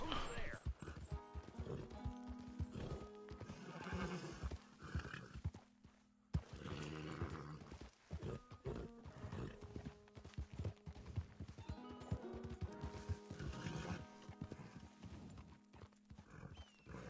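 Horse hooves clip-clop in a steady rhythm with an occasional whinny in the open-world game Red Dead Redemption 2, layered with game music and effects while a player talks over the action.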